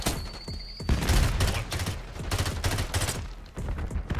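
Rapid full-auto bursts from a Stryder .22 in Black Ops 6, a dense string of sharp close shots running almost unbroken with a short pause near the end.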